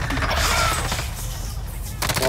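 Rapid gunfire rattles in an online shooter game, with dense overlapping bursts and shots crackling close and loud, broken by a brief lull before another volley.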